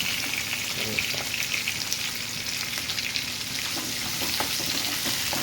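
Curry leaves and green chillies fry in a pan, giving a dense, loud, continuous sizzle and crackle close by, with faint stirring clicks and no voices.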